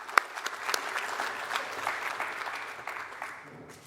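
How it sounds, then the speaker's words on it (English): Audience applause at a fishing conference session, a steady burst of clapping from a seated crowd that holds for several seconds and slowly fades. "Let's give Julian a round of applause."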